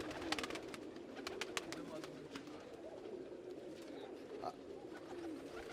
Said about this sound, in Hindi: टोटल जितने भी आपको कबूतर आपको स्क्रीन पे नज़र आएंगे